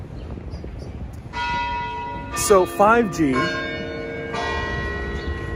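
Church bell tolling on a New York City street, a steady ringing with sustained overtones throughout, with someone talking briefly over it partway through.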